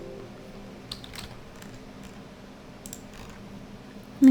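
Sparse, clicky key presses on a computer keyboard entering a shortcut in Revit architectural software, close and fairly quiet, with a few isolated taps spread across the moment and no talking.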